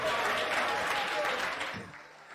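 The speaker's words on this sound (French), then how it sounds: "On a applaudi pour mon quartier, s'il vous plaît." Brief burst of audience applause at a comedy show, dense clapping from a crowd that tails off after about two seconds.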